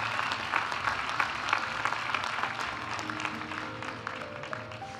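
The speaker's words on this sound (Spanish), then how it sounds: "Aplaudimos a los graduados de la maestría en Dirección de Marketing y Gestión Comercial." Audience at a university graduation ceremony clapping for master's graduates in marketing and commercial management, a steady moderate patter of many hands with a faint tone sounding late.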